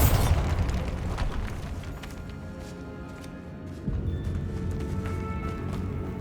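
A Bombarda blasting spell goes off in Hogwarts Legacy, opening on a deep, loud explosion that rumbles and decays, then a second low thud follows with debris tumbling and scattering.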